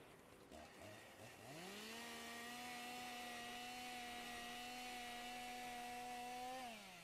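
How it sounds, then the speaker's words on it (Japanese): A chainsaw in a video game revs up and holds a steady buzzing drone for several seconds, then stops, fairly faint and with no talking. "まあチェーンソーの音はこんなもんでええやろ。"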